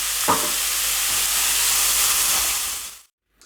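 Msemen pizza mixture with onions being stirred in a hot pan, a steady broad sizzling hiss with a faint scrape near the start, continuous for about three seconds before cutting to silence.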